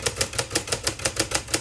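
Manual typewriter ribbon mechanism clicking and whirring in a steady rhythmic pattern of about eight repeated mechanical beats as the ribbon winds and reverses direction, close and alone with no voices.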